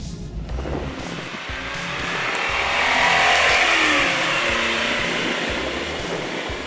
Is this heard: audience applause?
no